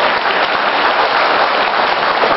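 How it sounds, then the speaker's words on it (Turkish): Steady crowd clapping at a dinner gathering of association members and visiting presidents, a dense, even roar of hands lasting the whole short stretch. "Onlar da bir alkışlar."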